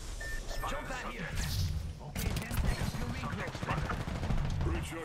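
Rapid bursts of automatic gunfire crackle through a battle royale video game firefight, dense and continuous across the clip with a brief break midway, heavy low thuds under sharp reports, with a player's voice talking over the shooting.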